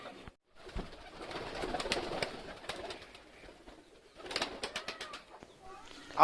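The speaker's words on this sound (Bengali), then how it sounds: "তো গ্যাস পায়রাগুলোকে বাইরে ছেড়ে দিলাম এখন খাবার দেবো তো গ্যাস পায়রাগুলোকে খাবার দিচ্ছি" Pigeons let outside for feeding coo in short, intermittent bursts at close range, with brief wing flutters and quiet gaps between calls and no talking.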